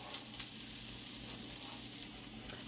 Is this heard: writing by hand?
no